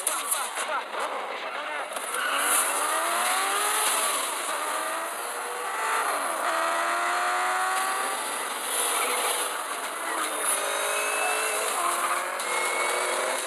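Racing car lapping a track in a video game, engine whining with rising and falling gear sweeps throughout, loud and continuous under music and voices.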